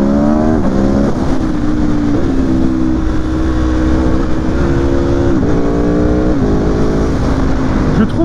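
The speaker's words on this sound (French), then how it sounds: "Je trouve vraiment le moteur très onctueux" An Aprilia Tuono V4 Factory 1100 (2019) V4 engine rises and falls in pitch as it accelerates through gears, loud and steady throughout.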